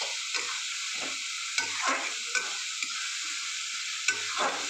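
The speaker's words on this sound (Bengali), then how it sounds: "মশলাটাকে আমি একটু কষিয়ে নেব।" Garlic ginger spice paste, about 75 grams of garlic ground in a mixer, fries in a pan for a country chicken kosha, giving a steady loud sizzle broken by several distinct stirring scrapes, with no voices.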